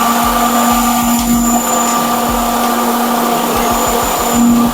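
Cold spark machines run under remote programming, a loud, steady mechanical whir with a fixed hum and rapid low pulsing throughout, no voices.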